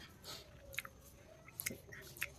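Close, quiet chewing of some unusual food, with soft wet squishes and a few sharp biting clicks over a low background hiss.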